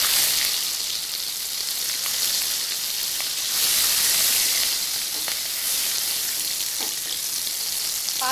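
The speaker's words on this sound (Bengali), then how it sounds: "এবার আমি এই তেলেই ফোড়ন দিয়ে দিচ্ছি পাঁচফোড়নটা, কাঁচা লঙ্কাগুলো দিয়ে দিলাম" Panch phoron spices and green chillies sizzle in hot oil after badi were fried in it, a steady bright crackling hiss with occasional pops, close and continuous for the whole stretch without any talk.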